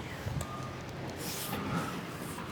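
Trucks queue for diesel at a busy gas station in Sumatra, a low, steady engine rumble with a faint reversing beep and other tones above it, heard from nearby with no talking.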